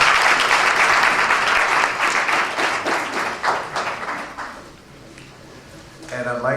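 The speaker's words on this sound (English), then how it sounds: "Let's give a round of applause." A room full of guests at a Caribbean leadership breakfast and recognition ceremony in Nassau County claps loudly and steadily, the applause gradually thinning and fading before a voice begins to speak.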